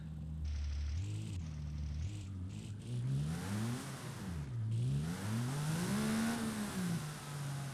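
A Mercedes AMG One's engine revs and accelerates in BeamNG Drive, a loud, continuous whine rising and falling in pitch through repeated gear pulls, close and alone without any talk.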